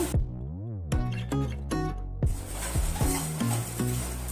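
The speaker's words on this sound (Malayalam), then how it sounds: "ഇനി നമുക്ക് ലോ ടു മീഡിയം ഫ്ലെയിമിൽ വെച്ചിട്ട് ഒന്ന് മൊത്തത്തിലൊന്ന് റോസ്റ്റ് ചെയ്തെടുക്കാം" Flattened rice (aval) roasts in a pan over a low to medium flame, stirred with rhythmic scraping strokes over a continuous dry sizzle, heard up close.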